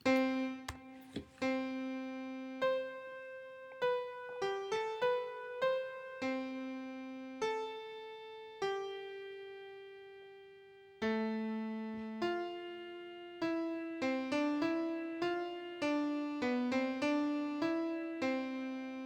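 A song played as a clear eight-bar melody on a single pitched instrument, sustained and short notes rising and falling in a steady rhythm, close and alone with no talking.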